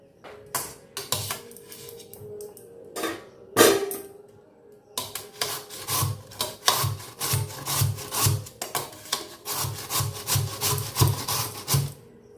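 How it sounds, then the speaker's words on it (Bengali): Potatoes are rubbed against a grater, a run of short rhythmic scraping strokes, sparse at first and then quick and regular, close and fairly loud with no talk. "আলুগুলোকে এখানে ঘষে কাটবো"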